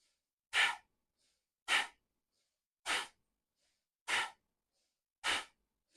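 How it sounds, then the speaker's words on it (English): Deep yoga breaths during a slow hatha flow for the solar plexus: five evenly spaced breathy exhales about a second apart, close and soft, with silence between them and no talking. "Let's go for about 10 more breaths just like this."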